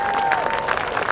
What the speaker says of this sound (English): Please give a round of applause to Storm Sapanero.